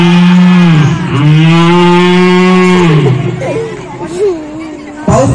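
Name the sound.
mimicry artist imitating cows and buffaloes mooing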